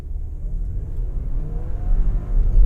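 An Audi Q5 45 TFSI engine accelerates from inside the car, a low droning hum that gradually grows louder and rises slightly in pitch over a few seconds.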